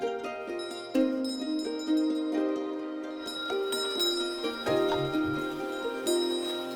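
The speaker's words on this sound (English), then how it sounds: "I have a Tibetan bell which gives them direction." A Tibetan bell rung repeatedly while walking, giving soft metallic strikes every second or so with shimmering overtones that ring on between hits, fairly quiet and with no talking.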